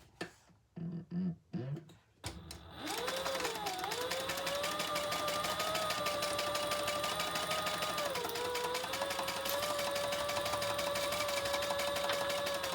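A sewing machine stitching a Zara-style crossbody bag starts up after a few short bumps and handling noises, then runs in a steady, close, whirring hum with a faint rhythmic clatter and a brief change in pitch midway.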